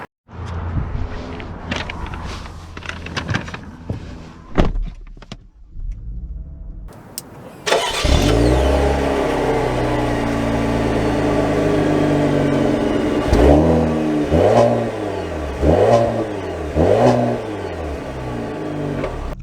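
A 2023 Cadillac CT5 Premium Luxury 550T cranks and fires up after a few seconds of quiet rustling, then idles loudly and revs repeatedly in rising sweeps near the end.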